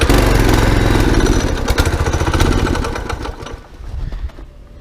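Coleman B200R mini bike engine idling and warming up in freezing winter cold, a loud, close, uneven small-engine putter that fades and sputters toward the end, with no talking.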